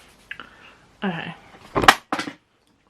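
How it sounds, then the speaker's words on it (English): A makeup palette drops onto a hard surface with a sharp clatter, followed by brief rattling bits, close and loud between stretches of talk. "I've just dropped the same palette again."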